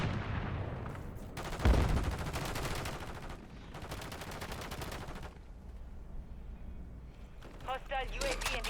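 Assault rifle fire in the video game Call of Duty comes in bursts of rapid shots, one sharp loud report among them, with a quieter stretch and chirpy game effects near the end.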